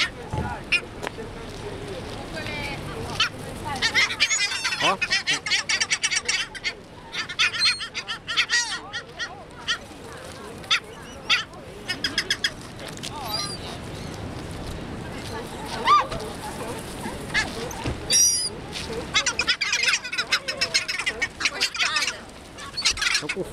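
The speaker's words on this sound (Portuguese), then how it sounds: "tá alimentando as gaivotas." Seagulls being fed, a flock calling with repeated honking and squawking cries near and far over lapping water and boat noise, with people talking throughout.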